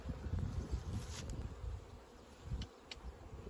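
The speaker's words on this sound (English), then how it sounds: "It's a little bee friend." Faint honey bees hum around a hive outdoors, a low shifting drone with occasional louder passes as individual bees fly near the microphone.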